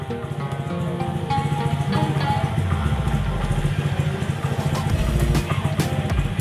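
A motorcycle engine idles and is revved up in rising throttle blips during a battery charging check, with a steady mechanical rattle and deepening roar close by.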